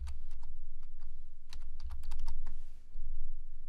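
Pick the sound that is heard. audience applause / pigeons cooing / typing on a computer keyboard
typing on a computer keyboard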